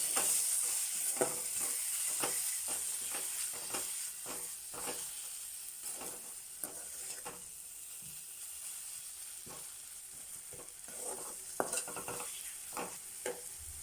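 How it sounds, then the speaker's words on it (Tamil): Half-cooked egg being stirred in a hot pan for an egg barotta, with steady sizzling and frying hiss and repeated scraping stirs throughout, close and alone with no talk. "இப்போ ஒரு சைடு முட்டை வெந்துருச்சு. நம்ம அதை அப்படியே கிளறி விட்டுக்கலாம்."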